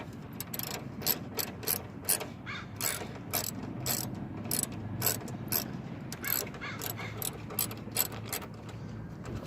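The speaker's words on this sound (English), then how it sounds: "I'm going to loosen the bolt first." Ratchet wrench loosening a headlight bolt on a 1995 Geo Prizm, a steady run of close, crisp clicking strokes repeating in quick bursts with brief pauses between them.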